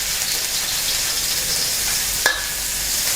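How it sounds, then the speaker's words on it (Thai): Dried shrimp dry-roasting in a pan for a sponge gourd and egg stir-fry, a continuous close hiss and crackle with a single sharp utensil knock near the end. "นำกุ้งแห้งลงมาคั่วนะครับ"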